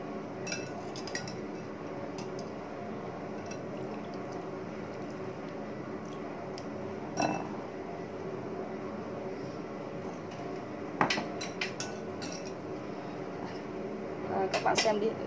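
Black tapioca pearls made from black beans are moved onto a plate. Occasional sharp clinks of dishes and utensils break through a steady room hum, with a cluster of clinks near the end.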